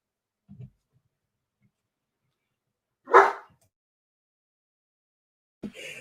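A few short dog barks scattered across mostly quiet space, one louder bark in the middle and another near the end.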